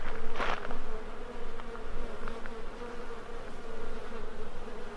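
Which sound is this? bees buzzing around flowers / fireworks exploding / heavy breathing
bees buzzing around flowers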